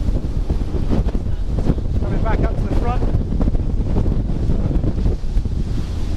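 A 2020 Fjord 44 Open motor boat runs at speed with engines throttled up, giving a loud, continuous roar of wind and water rush with spray, while someone speaks briefly over it.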